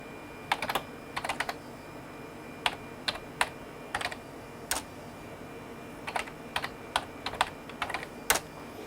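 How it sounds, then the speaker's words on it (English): Keys clack on the keyboard of a 1997 Dell Dimension M233a desktop PC in short, irregular bursts of close, crisp taps with brief pauses between them. No one speaks. "This gives us a chance to find out if the keyboard's working as well."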